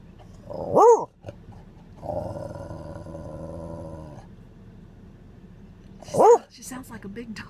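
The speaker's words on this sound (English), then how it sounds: "I think she's going to bark again." Baylee the dog, riding in a moving car, lets out two deep, loud barks several seconds apart over the low road rumble, with a faint murmur of talk in between.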